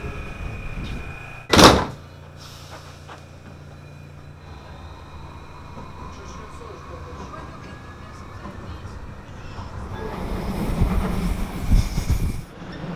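A Vienna metro train rumbles in and grows louder toward the end, wheels squealing, after a sharp thunk near the start.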